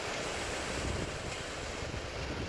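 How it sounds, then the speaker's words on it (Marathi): Pre-monsoon rain driven by strong wind in Lonavala: a steady, dense roar of rain and gusting air, loud and unbroken, with no voices. "आज मान्सून पूर्व पावसानं संपूर्ण लोणावळ्यामध्ये हजेरी लावली"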